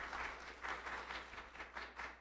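Church congregation at a United Methodist Sunday morning worship service cheering and applauding together, a steady wash of clapping with rising and falling swells, moderately loud and continuous, no speech over it.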